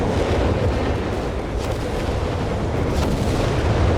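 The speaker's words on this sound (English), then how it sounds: "More Luftwaffe fire here." Luftwaffe artillery fire in the Company of Heroes 3 video game, a dense, continuous rumble of booms and blasts with a couple of sharper impacts, loud and without talk.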